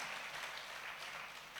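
Faint, even applause from an audience at a spiritual session, a distant, continuous patter of clapping with no voices over it.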